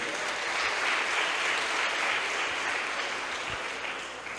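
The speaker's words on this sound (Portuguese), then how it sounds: "Vamos aplaudir ao Senhor por isso?" Enthusiastic clapping from a large church congregation fills the room during a sermon, sustained and even, then eases slightly toward the end.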